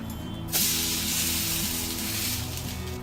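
Semolina bread toast sizzling in an oiled pan on a medium flame, a loud steady hiss and crackle that jumps up after a brief quieter moment and keeps frying without pause.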